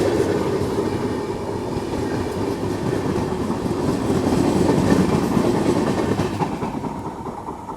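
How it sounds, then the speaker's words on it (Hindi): A Nilanchal Express train rushes past on the adjacent third line near Ghaziabad, heard from inside a moving train as a loud, steady rolling roar with rail clatter that swells midway and eases slightly toward the end. "गाजियाबाद के पहले फाइनली 3rd लाइन से नीलांचल एक्सप्रेस आगे निकल रही है।"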